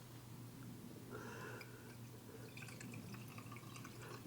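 Glenlivet Founders Reserve Scotch whisky poured into a small barrel to refill it, a faint, close trickle and drip of liquid lasting a few seconds with no talking.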